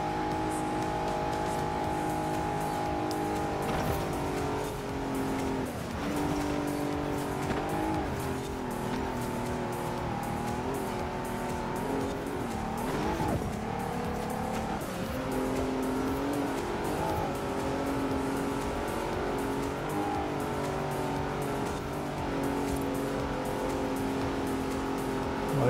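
A car in Forza Horizon 4 labours up a steep hill, its engine droning steadily and loudly with slight shifts in pitch, accompanied by faint tyre noise throughout.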